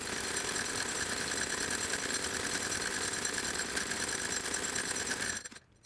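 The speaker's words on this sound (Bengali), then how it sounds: "আমরা এখন আরেকটা সেলাই দিব এই ধার ঘেঁষে।" Sewing machine stitching along the fabric edge of a maxi dress, a steady, close mechanical whir that runs without pause for several seconds before stopping abruptly at the end; no talking.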